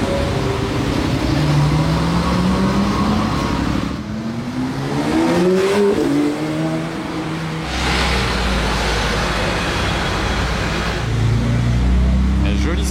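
A Porsche Targa GTS drives past at a car show, its engine note rising and falling over steady crowd noise, with people talking nearby throughout.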